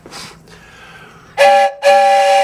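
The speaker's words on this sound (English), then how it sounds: "Train whistle." Two loud, sustained blasts of a train whistle ring out close by, each about a quarter second, after a softer, breathy opening toot.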